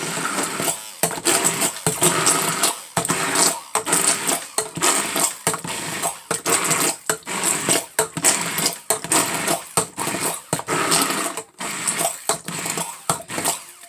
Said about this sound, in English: Sorry for the noise from the blender hitting the side of the bowl.